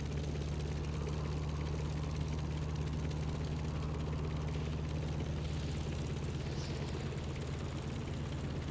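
A steady, loud, low-pitched engine drone from a helicopter in the Stormworks building and rescue game, holding at an even level throughout.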